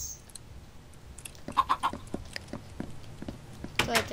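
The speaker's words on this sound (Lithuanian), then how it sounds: "O, viščiukų turim." Minecraft chickens give a few short clucking calls in a quick cluster near the middle, with other brief game sounds around them and quiet background in between.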